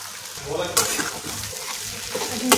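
Poha and potatoes stir-fried in oil in a pan, with a continuous close sizzle and scraping stirs, plus a sharp clatter near the start.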